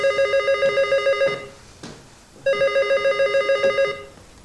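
An old telephone bell rings loud and close in two long, rapidly trilling bursts with a short pause between them, and a faint knock sounds in the gap.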